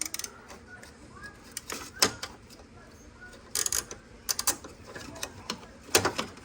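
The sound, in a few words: wrench turning on Mercedes ABC tandem pump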